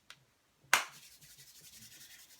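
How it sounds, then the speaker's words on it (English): A single sharp clap followed by steady hands rubbing together, close and quiet, a soft continuous friction with faint rhythmic strokes, preceded by a tiny tap. "clap, rub down, getting in between your fingers, generating that heat"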